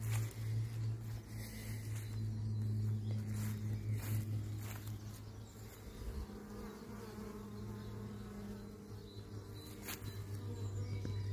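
Honeybees buzz steadily around a hive being fed candy, a dense continuous drone close by with no voices over it.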